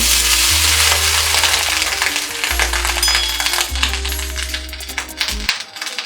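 Oil brushed across a hot pan for Bengali patishapta pitha gives a steady, close frying sizzle with a low hum underneath, running evenly and fading near the end.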